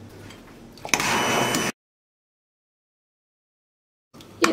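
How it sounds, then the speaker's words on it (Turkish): A kitchen blender purees cooked soup in a short burst of loud whirring, then stops and falls silent before starting again briefly at the end. "Şimdi blenderdan çekeceğim."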